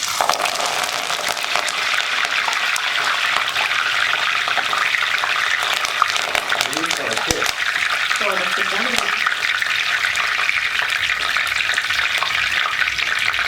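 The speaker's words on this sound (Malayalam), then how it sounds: "നമ്മുടെ ഈ കറിവേപ്പില എണ്ണയിലേക്ക് ഇടുമ്പോൾ എണ്ണയ്ക്ക് കറിവേപ്പിലയുടെ ടേസ്റ്റ് ആവും." Curry leaves fry in hot oil for a Kerala-style snack mixture, giving a loud, steady crackling sizzle close up with occasional stirring noises throughout.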